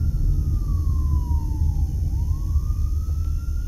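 A fire truck siren wails across a Las Vegas street at Stewart Avenue, its tone sweeping down then climbing again over steady traffic rumble as the truck crosses close in front.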